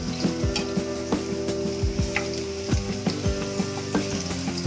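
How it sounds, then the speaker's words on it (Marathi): Garlic frying in a pan, a continuous close sizzle with intermittent clicks and scrapes of a spoon against the pan. "लसूण टाकून घेतोय पहिले लसूण थोडा बॉईल होऊ द्या आणि पहिले लसूण थोडासा शिजू द्या"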